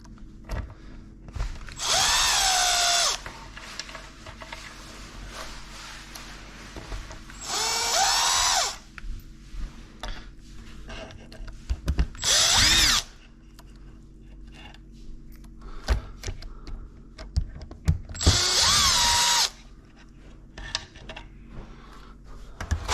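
A power drill drives screws in short bursts, four separate whirring runs of about a second each with quiet pauses and small handling knocks between them, fairly close.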